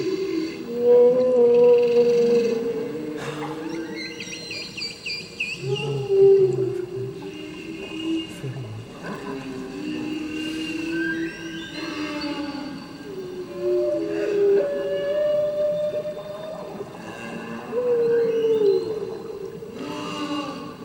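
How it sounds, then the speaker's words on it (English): Humpback whale song fills the sea: long moaning tones, rising whoops and squeaky upsweeps follow one another in slow phrases, near and clear over a low watery hum. "The song of the humpback is something really beautiful"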